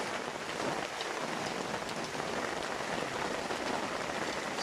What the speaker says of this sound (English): the rain just continues. A lot of rain all day long.